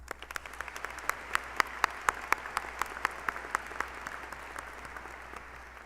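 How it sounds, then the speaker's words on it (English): Applause at a 2022 commencement ceremony for faculty, staff, family and friends: a fairly sparse, moderately distant crowd clapping, with distinct individual claps standing out before gradually tapering off. "So let's give them a big round of applause."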